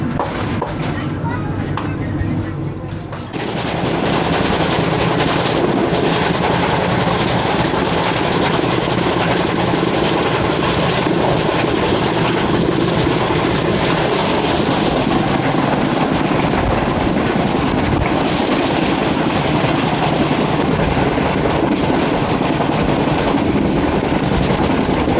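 Shalimar Express, a Pakistani Lahore–Karachi train, heard from inside a coach as a loud, steady rumble and rattle of running wheels, with a quieter stretch at the start before the noise swells.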